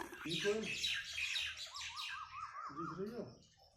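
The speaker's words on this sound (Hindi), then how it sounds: "हमारे बोतल पंप पर भी पक्षी बैठा है" A bird perched on a bottle pump chirping, a quick series of repeated rising-falling whistled notes between fuller squawky calls, close by, with someone speaking over part of it.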